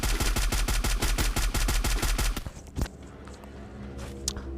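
Rapid bursts of gunfire in the video game Free Fire ring out loud and close in a fast steady rhythm, then stop, leaving scattered quieter clicks and thumps.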